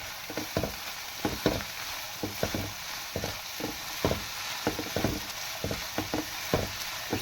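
Cabbage, capsicum and ground spices stirred and fried in a pan, a steady sizzle broken by repeated sharp scrapes and knocks of a spoon against the metal, close and fairly loud with no talking.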